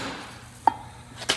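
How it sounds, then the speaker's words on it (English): A Monroe shock absorber demonstration display being pushed down, giving a sharp click followed by a faint squeak, then a second click about half a second later, in a quiet room. "This little display here is great for demonstrating how a shock absorber fails."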